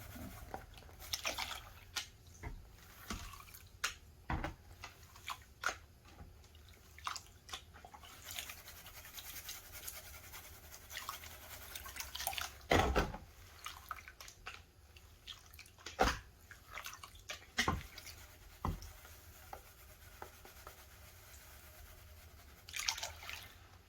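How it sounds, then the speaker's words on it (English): Crushed gold ore is panned in water, giving quiet sloshing, dripping and gritty scraping with scattered louder splashes and knocks, close by and fairly soft, with no talking. "It's going to take quite a while to pan all this out."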